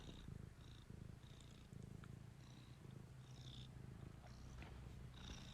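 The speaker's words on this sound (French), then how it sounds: "Vous entendez le chat?" A cat purrs softly and continuously close by, with a steady rhythmic rumble and faint breathy pulses, in an otherwise quiet room.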